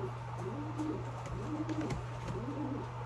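Pigeon cooing close by, a repeated soft rolling coo in a steady rhythm over a constant low hum, with no voices.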